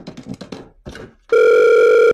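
After a moment of brief voice-like sounds, a redialed telephone call gives out a steady, loud ringing tone that holds for nearly a second.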